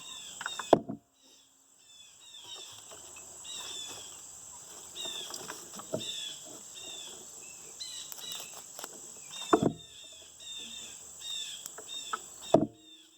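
Blue jays' harsh calls ring out repeatedly outdoors in the morning, loud and fairly near, over a steady high insect-like drone, with a few sharp knocks.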